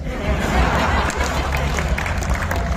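Audience applauding at a poetry gathering at IIT Kanpur, a steady spread of many clapping hands with a low room rumble and a hint of crowd murmur beneath.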